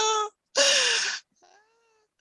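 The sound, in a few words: cats fighting in the garden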